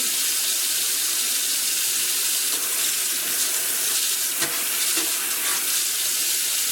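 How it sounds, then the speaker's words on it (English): A kitchen knife washed at a sink with a sponge and dish soap under running water makes a loud steady hiss of flowing water, with brief scrubbing and clinking accents near the middle. "You're going to wash the knife in its entirety immediately after using it in the kitchen."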